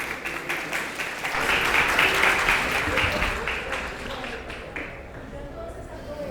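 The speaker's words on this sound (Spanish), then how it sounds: "Lo recibimos con un fuerte aplauso" Audience applause at a conference panel welcomes the moderator, a dense wash of clapping that swells and then tapers off.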